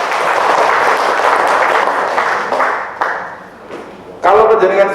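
Applause fills an official opening session for village council members in Gondang, a broad steady wash of clapping in an indoor hall that fades and then swells again near the end.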